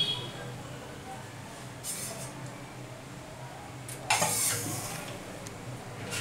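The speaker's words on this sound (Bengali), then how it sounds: "আমি এবার কড়াই আর 1 টেবিল চামচ মতো তেল দেবো ফোড়ন দেওয়ার জন্য।" A kadai (wok) clanks onto the stove and about a tablespoon of oil goes in for tempering a vegetarian Bengali ash gourd dish. There are two metallic knocks, the second louder, over a faint low background.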